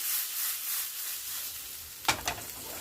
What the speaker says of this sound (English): And I'm just going to give this a saute